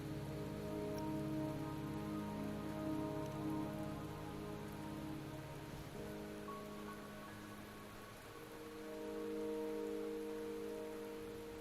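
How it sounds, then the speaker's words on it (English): Steady rain falls on surfaces in the video game Wuthering Waves, a dense continuous patter of drops holding at an even level throughout, with low tonal game music underneath and no talking. "Don't worry, the rain won't last much longer."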